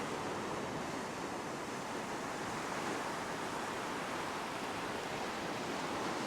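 Ocean waves breaking on a beach during surf fishing, a constant broad roar of surf, steady and fairly faint, with no voices.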